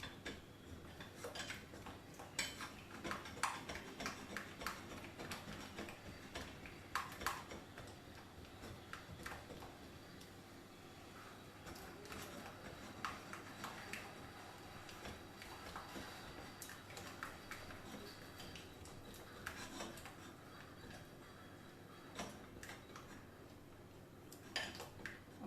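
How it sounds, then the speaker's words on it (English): Melted white chocolate mixed in a bowl, a steady run of light clicking and ticking spoon taps against the bowl, close but faint and continuous. "I'm just going to mix this up because it's still not fully melted."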